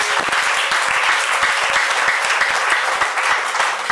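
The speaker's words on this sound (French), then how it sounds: "Acclame très fort le Seigneur Jésus." A church congregation applauds and cheers loudly for Jesus during a prophetic sermon, a dense continuous roar of clapping with no one speaking over it.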